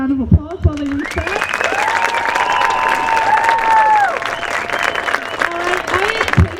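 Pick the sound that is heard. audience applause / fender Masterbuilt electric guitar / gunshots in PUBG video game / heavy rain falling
audience applause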